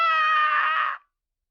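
A short, harsh, over-compressed tone with a squashed, buzzy quality, lasting under a second before cutting off abruptly into silence.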